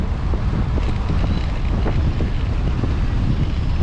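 Steady, loud wind buffets the microphone of a Trek Domane AL 2 road bike rider at a gusty stretch between Leach Park and Sunderbruch, a continuous broadband roar with no talk.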